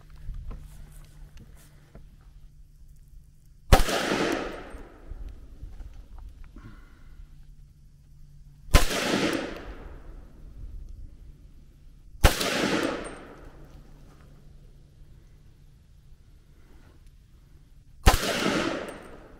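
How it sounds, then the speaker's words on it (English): A 300 Blackout rifle fires 125 grain Sierra Game Changer ballistic tip rounds outdoors: four loud, sharp shots spaced several seconds apart, each with a short ringing decay. "The Air Game Changer 125 grain ballistic tip fired just fine."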